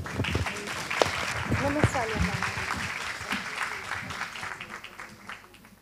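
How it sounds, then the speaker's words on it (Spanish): An audience at an early-childhood education congress applauds, a broad crackle of many hands moderately close, while voices talk over it before the clapping fades out. "Un aplauso"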